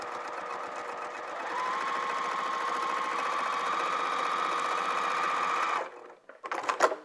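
A sewing machine runs steadily for almost six seconds, stitching the cuff onto a holiday stocking with its raw edges aligned at a 3 mm stitch length. It then stops abruptly, leaving a few faint clicks and handling noises.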